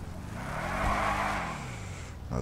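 A car in the video game GTA drives with a steady engine drone that swells and eases, with a brief tire skid mid-clip, moderately loud with no talking.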